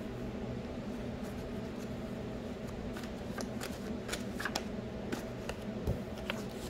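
Oracle cue cards shuffled by hand close up in a quiet room, a steady soft riffling texture broken by sharper snapping flicks and taps toward the end, with no voices.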